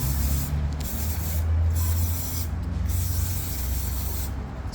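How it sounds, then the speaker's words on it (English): A close, steady hiss of brake cleaner spray runs for several seconds over a low rumbling hum, during an oil change on a 2023 Jeep. "Spray some brake cleaner"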